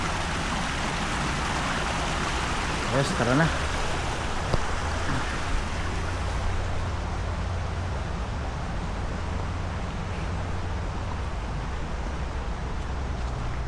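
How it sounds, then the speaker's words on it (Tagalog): Flowing stream water runs steadily outdoors as a continuous broadband rush, with a brief spoken exclamation near the start. "Ang agos ng tubig."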